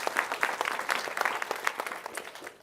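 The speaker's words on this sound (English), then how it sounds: "Please give Jim a round of applause" Audience applause at an AI and education summit panel, a dense patter of clapping hands that holds steady and then tapers off near the end.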